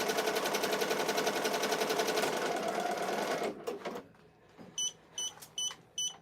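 A Ricoma EM-1010 embroidery machine stitching a design, its fast, loud, rhythmic needle chatter running steadily before stopping abruptly, followed by several short electronic beeps in quick bursts.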